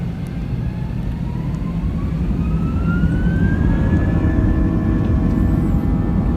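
A passenger jet takes off from San Diego International Airport, its engines roaring as a loud, steady cabin rumble with a rising whine that climbs in pitch as the plane accelerates down the runway.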